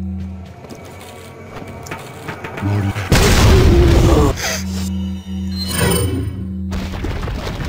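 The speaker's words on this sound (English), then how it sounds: "Hand grenade." A hand grenade goes off in Resident Evil 4, a loud booming blast with rumbling debris that rings on for about a second and a half, set between quieter game ambience and music.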